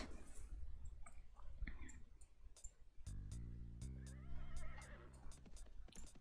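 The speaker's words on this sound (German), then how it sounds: "Pferde?" Horses whinny in a long, wavering neigh amid clicking and clip-clop ticks in the transport simulation game Simutrans, layered over a low harmonic drone and quiet game ambience.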